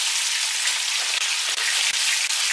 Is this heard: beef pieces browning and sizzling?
yes